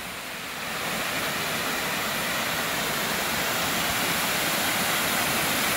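Water pouring over a full dam near a small creek, a dense, constant rushing roar that swells slightly at the start and then holds steady and fairly loud, with no voices.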